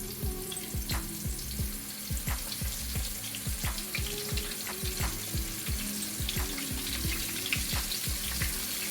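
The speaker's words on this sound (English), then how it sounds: "Now that my oil has heated, we're going to go ahead and start frying." Steady sizzling and crackling of something frying in hot oil, with scattered pops and soft scraping underneath, continuous and moderately close.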